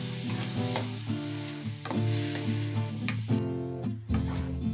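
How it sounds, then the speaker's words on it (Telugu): Chopped tomatoes and dried red chillies fry in oil in a pan for veg momos, giving a steady close sizzle with stirring scrapes, while musical tones play throughout. "తర్వాత ఇందులో చిన్నగా కట్ చేసుకున్న టమోటాలని, ఎండుమిర్చిని వేసి కలుపుకొని మూత పెట్టేసి మగ్గించుకోవాలి."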